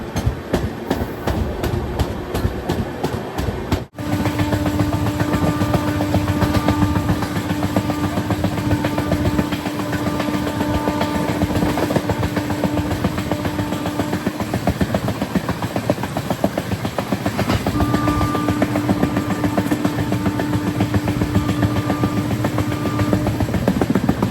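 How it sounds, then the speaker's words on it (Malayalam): A passenger train pulls into Annavaram station on the Rajahmundry to Visakhapatnam line, a steady rumbling roll with clickety-clack from the wheels and a hissing undertone, close and continuous, with a sharp jolt near the start. "7:58 ട്രെയിൻ ഇപ്പോൾ അന്നവാരം സ്റ്റേഷനിലെത്തി."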